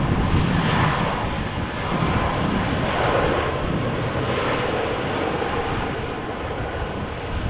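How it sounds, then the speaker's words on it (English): Arriving at Schiphol from Lisbon, a TAP Air Portugal airliner gives off a loud, broad jet engine roar that holds steady, swelling and easing slightly as it passes close by. "Top Air Portugal, arriving from Lisbon."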